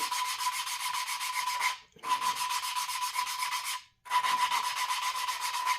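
A Farmall Cub engine valve being lapped onto its seat gives a steady, close gritty rasp in three long continuous strokes, with brief pauses between them and no talk.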